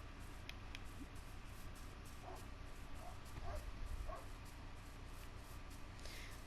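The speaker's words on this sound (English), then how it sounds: "I don't know if you can hear the dog barking in the background" A dog barks a few times in the background, faint and intermittent against a steady low hum while someone plays Minecraft.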